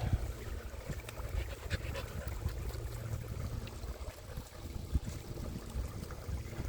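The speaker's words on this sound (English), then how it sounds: "Let the dogs drink whatever they want from the rushing water and let them chill." Dogs drinking from a rushing creek on a forest day-hike trail, with steady broadband water noise throughout and soft lapping and panting close by.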